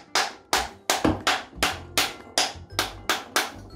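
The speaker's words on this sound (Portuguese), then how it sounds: "você vai virar a romã e você vai bater nela" Wooden spoon striking the back of an upturned pomegranate to loosen the seeds, about ten sharp, hollow knocks in a steady rhythm, close and fairly loud with no talking.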